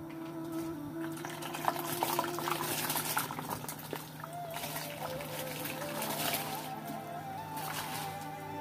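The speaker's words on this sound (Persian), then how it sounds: "ما اینجا دیگ گرفتیم، زیرش روشن کردیم، او داخلش انداختیم که به جوش آمده" Water at a rolling boil in a large pot over a flame as rice goes in for a lentil pulao, a steady close bubbling and hissing with faint clinks and stirring throughout.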